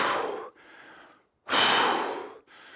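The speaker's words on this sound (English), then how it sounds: "Breathe in through the nose, big breath." Two deep breaths, each a long forceful inhale through the nose followed by a shorter exhale, close and loud with a brief silence between them.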